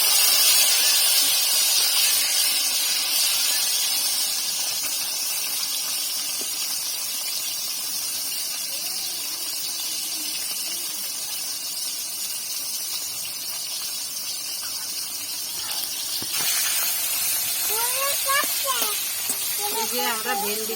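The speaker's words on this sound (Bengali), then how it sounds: "এই যে আমরা ভেন্ডিগুলো একে একে সব ভেজে নিচ্ছি।" Okra frying in hot oil for a malai curry, a steady loud hiss of frying throughout with a burst of louder spitting near the end.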